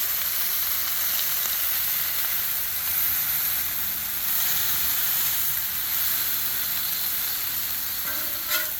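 Teriyaki chicken sizzles loudly on a hot Blackstone griddle while being pressed down, a dense, constant hiss and crackle close up and unbroken for the whole stretch.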